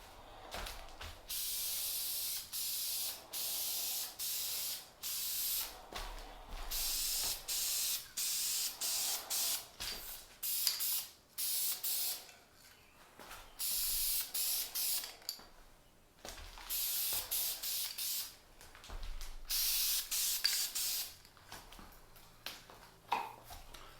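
An aerosol spray can lays a color coat onto parts of a 1950s Sears J. C. Higgins camp stove, a series of loud hissing bursts, each a second or two long, separated by short pauses.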